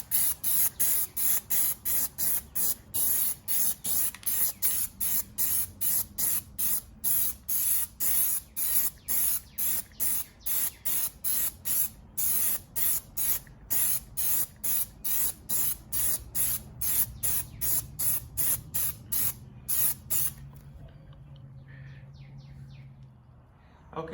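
Plasti Dip sprayed from an aerosol can onto a 2020 Hyundai Sonata front emblem, a rapid run of short loud hissing bursts that stop near the end, followed by quiet, faint talk.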